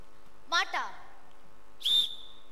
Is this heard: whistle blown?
yes